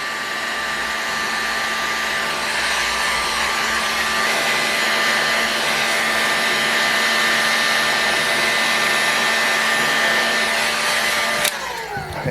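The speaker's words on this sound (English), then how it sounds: "let's just begin heating this crankcase up" A heat gun blows steadily on an OS FS26 Surpass model engine crankcase, a continuous airy whirring hum with a faint whine, loud and close, holding unbroken for about eleven seconds before cutting off near the end.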